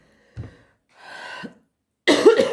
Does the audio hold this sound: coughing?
yes